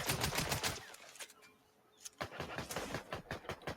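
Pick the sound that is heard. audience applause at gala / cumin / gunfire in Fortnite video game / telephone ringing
gunfire in Fortnite video game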